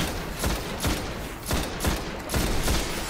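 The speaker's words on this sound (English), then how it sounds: "I'm just holding down the gun. It's just boom, boom, boom" An auto rifle in the video game Destiny fires in a steady stream, with sharp repeated shots landing several times a second, loud and close with no talking over the gunfire.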